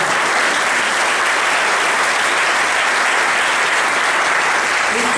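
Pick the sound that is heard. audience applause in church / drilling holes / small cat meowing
audience applause in church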